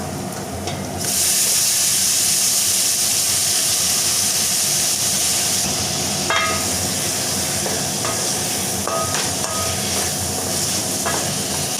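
Brinjal sizzling and frying in a pan with onions and curry leaves, a steady loud hiss throughout with occasional crackles and stirring clinks, no voices.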